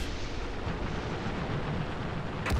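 A heavy rumbling blast from a tank gun in a tank game, a dense, boomy roar filling the short moment with a sharper burst right at the end, with no talk.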